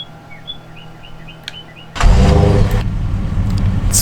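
A Challenger tractor engine in the Farming Simulator 25 game starts up and settles into a loud, steady rumble after a quiet stretch with faint chirps.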